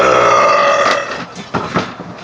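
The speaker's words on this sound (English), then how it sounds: "I just don't want to keep burping." A long, loud, close burp in a burping contest rolls out for about a second, followed by a few shorter, weaker gulping burps.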